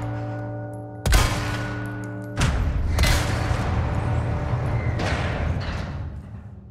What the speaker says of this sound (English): could bring those gongs by shooting them